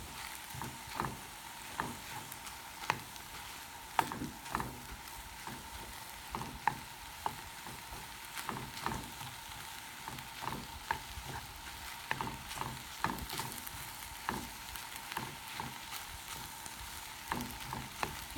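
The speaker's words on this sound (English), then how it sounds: "now we're just gonna mix in the spices" Spiced kale stirred around a hot pan, a steady low sizzle with repeated scraping clicks of the utensil against the pan, close and fairly quiet, with no talking.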